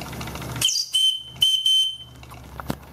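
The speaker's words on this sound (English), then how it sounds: "But man, this whistle is something else." A very loud steam whistle on a home-made 3-inch boiler lets out sharp, shrill blasts, two main bursts with a short gap between, amid hiss and faint mechanical noise.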